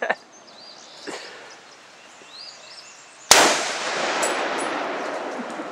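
A single loud M1 rifle gunshot cracks sharply outdoors and is followed by a long reverberating wash of noise, after a few seconds of quiet background with faint birdsong.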